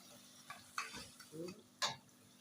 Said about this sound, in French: Je tourne à chaque fois pour éviter que ça brûle en bas.